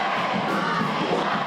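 North Central fans cheer and shout at a high school basketball game against rival Carmel, a dense, loud crowd roar sustained throughout without a break.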